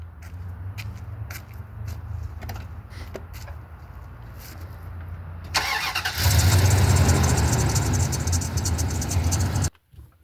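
A car engine starts up and revs loudly for a few seconds, then cuts off abruptly, following a stretch of low idling rumble with faint footstep-like knocks in a drunk-driving sketch.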